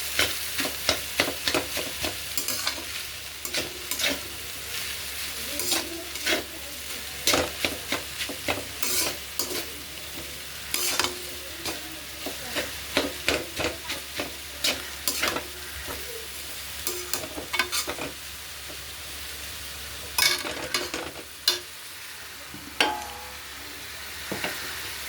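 Chow mein stir-fried in a pan, a continuous sizzle broken by frequent sharp scrapes and clanks of a spatula in an irregular rhythm, close and fairly loud, with no voices.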